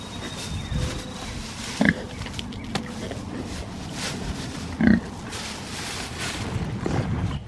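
Pigs in a farm pen built for goats grunt in a few short, low bursts at a moderate distance, set against steady farmyard background noise.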